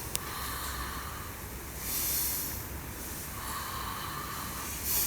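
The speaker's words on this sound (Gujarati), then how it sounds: "આમ લેવાનો શ્વાસ મોઢેથી." A person takes slow, deep breaths in through the mouth as a breathing exercise for phlegm and colds, with soft airy rushes rising and falling close by.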